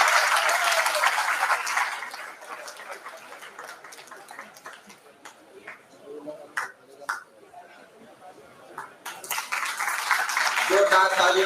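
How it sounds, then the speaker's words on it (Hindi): A college anniversary audience claps loudly at the start, fades to scattered claps and knocks with voices in between, then swells into full applause again at the end. "तालियां सब बज रही हैं।"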